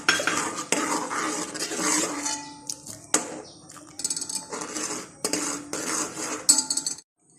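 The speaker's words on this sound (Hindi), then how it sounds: "तो अब इसमें हम कॉर्नफ्लोर ऐड करेंगे और इसको बराबर हिलाते जाएंगे" A spoon stirs a cornflour and sugar paste for mango ice cream in a pot, giving repeated scraping strokes and sharp metallic clinks against the pan. The bursts come close and clear, with short pauses between them.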